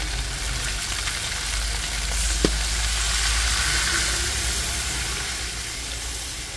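Chicken drumstick marinade is poured into a hot pan for adobo, setting off a loud, continuous sizzle with a low rumble underneath and one sharp clink partway through.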